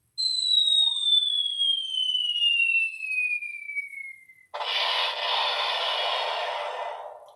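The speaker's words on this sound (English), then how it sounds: "Always good to have a small explosion in your pocket." A small explosion sound effect: two long descending whistles glide down for about four seconds, then a sudden loud crackling burst that sizzles on for nearly three seconds before cutting off.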